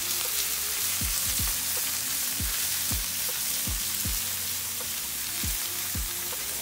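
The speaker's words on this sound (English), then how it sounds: "Give it a little stir." Garlic frying in a pan with five-cheese tortellini, a dense continuous hiss of sizzling oil with a few soft low thumps as the food is stirred, close and steady.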